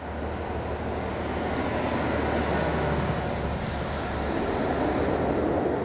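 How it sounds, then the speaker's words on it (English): The Conwy Castle train passes near a railway viaduct with a loud, steady, close rumble and rushing roar that holds evenly throughout, with no talking. "That was the Conwy Castle train."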